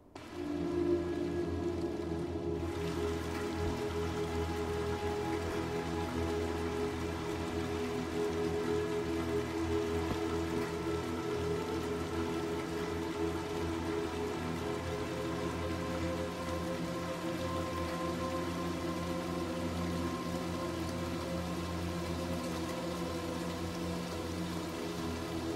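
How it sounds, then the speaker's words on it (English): Steady rain falls throughout in the video game Little Nightmares 2, a dense, even hiss of drops on surfaces holding at constant loudness, with a low ambient hum beneath and no voices. "Change my hat real quick because it's raining."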